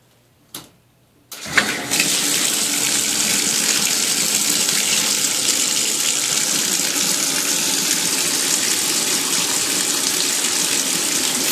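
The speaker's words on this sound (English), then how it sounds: "I'm just going to turn on the water." Water gushes steadily from a bathtub tap after a couple of brief clunks of the handle, a loud, close, continuous rushing flow with no talk.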